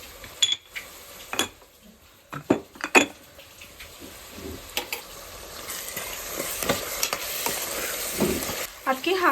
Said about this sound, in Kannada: ಅಕ್ಕಿ ಹಾಕ್ಕೊಂಡ್ಬಿಟ್ಟು ಒಂದ್ಸರಿ ಮಸಾಲೆಯಲ್ಲಿ ಮಿಕ್ಸ್ ಆಗೋ ಥರ ಕಲಿಸ್ಕೊಂಡಿದ್ದೀನಿ